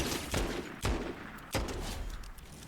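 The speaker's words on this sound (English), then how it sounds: "Try and dodge some of those shots there." Gunfire in the Fortnite video game, three sharp, fairly faint shots spaced apart, each cracking out over a low background hum.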